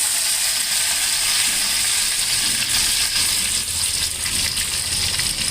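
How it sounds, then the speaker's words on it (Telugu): Cumin and mustard seeds frying in hot oil with fenugreek leaves added, a loud steady sizzle and crackle that runs continuously and close up, alone without talk. "ఇప్పుడు మనకి జీలకర్ర ఆవాలు వేగినాయి కదా. వేగిన తర్వాత ఫస్ట్ వేసేది మెంతి కూర."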